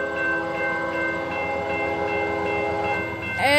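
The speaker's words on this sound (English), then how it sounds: "I think the train's about to move right now." A train rolls past with a sustained, loud multi-tone horn blast and steady track rumble beneath, closing with a brief rising squeal.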